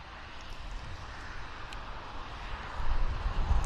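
A Convair 580 airplane departs and climbs from Vancouver airport, heard as a distant broad engine roar that swells noticeably louder toward the end.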